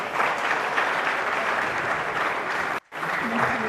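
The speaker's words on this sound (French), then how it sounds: "Applaudissez pour vous-même." An audience at a March 2023 closing event at UNIKIN applauds steadily, a thick wash of many clapping hands with a brief cut of silence before it resumes and a voice comes in.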